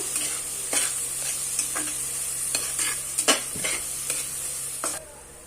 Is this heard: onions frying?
yes